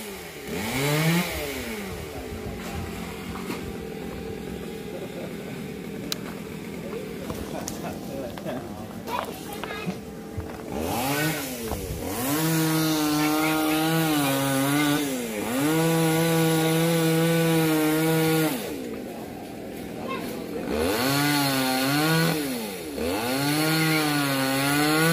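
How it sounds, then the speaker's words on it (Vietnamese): A chainsaw revs and cuts through the fibrous top of a coconut palm, its whine rising and falling in repeated bursts, close and loud, with someone talking in between. "Rồi giờ anh sẽ cưa cái phần đọt nha các bạn."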